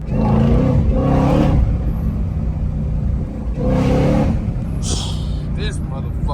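Ford Mustang Shelby GT500 in a video game, its engine revving loudly in two separate surges with a steady rumbling drive between them.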